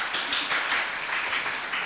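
Audience applause at a December meet-up, a steady wash of clapping that runs evenly for a couple of seconds at moderate loudness with no talking over it.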